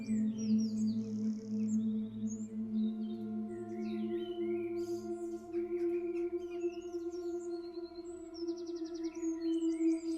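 Birds chirp and trill in scattered bursts over a steady, faint tonal drone in a calm natural setting, the calls light and intermittent against a quiet background.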